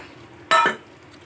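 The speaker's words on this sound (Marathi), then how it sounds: "आता याच्यात टाकू आपण हा बॉईल केलेला राजमा." Boiled kidney beans tipped into a clay pot of rajma masala, giving one short, fairly loud clattering splash that lasts about a quarter second against a quiet background.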